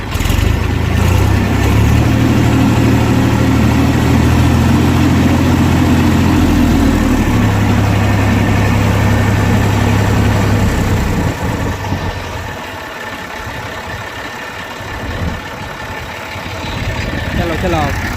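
A farm tractor's diesel engine, restarted after hand-pumping fuel, idles with a steady low rumble, loud and close for about eleven seconds, then drops to a rougher, quieter running; people talk over it.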